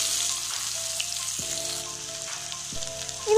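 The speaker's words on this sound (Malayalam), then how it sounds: "ഇനി നമ്മൾ നമ്മുടെ സ്ക്വിഡ് ഫ്രൈ ആക്കിയ ഓയിലിൽ തന്നെ നമ്മൾ കുറച്ച് നെയ്യും കൂടെ ഒഴിച്ചു കൊടുക്കുകയാണ്." Ghee hits hot oil left from frying squid and sizzles steadily up close, a continuous crackling hiss with faint clinks, and no talk.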